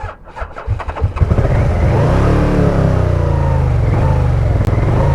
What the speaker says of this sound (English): Whenever you get it heavy throttle, it really comes alive.